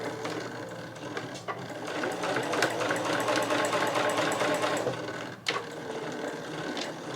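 Home sewing machine stitching fabric with a rapid, even mechanical clatter, running steadily for several seconds with a brief pause and restart near the end.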